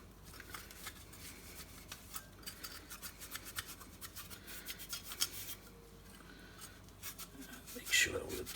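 Close, brisk rubbing and wiping strokes over the lens part of a Hoover Junior Dirtsearcher vacuum cleaner, repeated in a fast scratchy rhythm with a slightly louder burst near the end, while a person talks.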